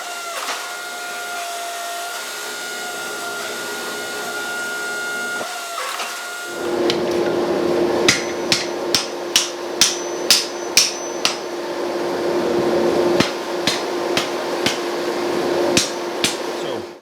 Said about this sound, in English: taken a couple of pieces of 1/4 inch square to use as kiss blocks to keep from pressing this thing too thin